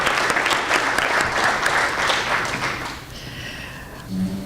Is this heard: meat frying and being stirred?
no